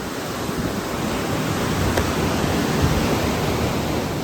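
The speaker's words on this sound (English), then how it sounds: "It's pretty rough seas today, swaying back and forth. The wind swells, the white caps." Rough sea in a storm, heard from a Carnival cruise ship, with a steady broadband rush of churning waves and wind, loud and unbroken, no speech.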